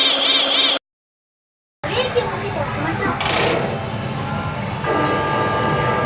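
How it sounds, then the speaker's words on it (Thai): Crowded train carriage before departure in Japan, with a steady rumbling hum of the rail car and passengers chatting throughout, after a brief dropout of total silence near the start. "รถไฟกำลังจะเดินทางแล้วเนาะ"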